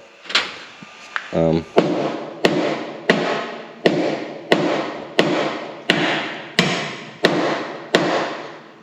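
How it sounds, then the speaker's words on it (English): A series of about a dozen sharp metallic blows from a needle hammer knocking out truck bolts, at a steady rhythm, close and loud, with a brief rattling buzz near the start. "I hit it with a needle hammer."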